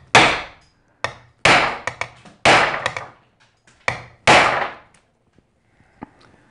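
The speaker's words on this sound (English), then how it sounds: "let's give it a good whack. So we can punch, we're actually gonna punch through the surface there" A metal punch struck hard with a hammer to drive it through a Filofax ring rivet: six or seven sharp, loud, close whacks at irregular intervals, each ringing briefly before fading, followed by a few faint taps.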